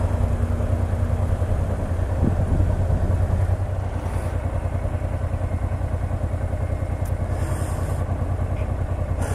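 A Honda Transalp 700 motorcycle rides through city traffic in Brussels, its engine a steady low rumble with constant wind and road noise up close, plus faint clatter from other vehicles around.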